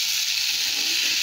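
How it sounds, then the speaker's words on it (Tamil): Chopped tomatoes and onions sauté in a hot pan for channa masala, giving a close, steady, bright sizzle and hiss that holds evenly without pause or voices. "தக்காளியோட பச்சை வாசனைலாம் போகிற வரைக்கும் இதை கொஞ்சம் வதக்கிப்போம்."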